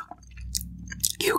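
Close, soft chewing and crunching of Korean food such as pork bulgogi, pickled cucumber, fish cakes and sprouts, in short bursts with quiet gaps between bites.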